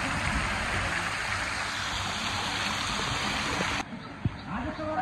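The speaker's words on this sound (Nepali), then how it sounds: "यस्तो राम्रो राम्रो पानी छहरा बगिरहेको छ" At Butwal water park, a water cascade flows with a steady, dense rushing wash close by, which cuts off abruptly near the end and leaves quieter background and a brief knock.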